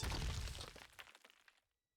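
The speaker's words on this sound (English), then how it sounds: "At last, Gluttony's core shatters." A glowing crystal core in a video game boss fight breaks apart in one loud, bright shattering crash that crackles and fades over about a second and a half, followed by silence.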